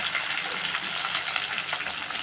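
Curry leaves, onions and green chillies frying in hot oil, a continuous close sizzle with light crackles and stirring, steady and loud with no voices.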